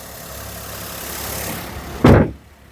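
A used 2011-12 Maruti Alto K10 VXi petrol hatchback idles with a low, even, quiet hum, then a single sharp thud near the end, like a door shutting, leaves the engine fainter.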